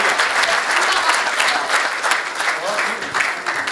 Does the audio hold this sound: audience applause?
yes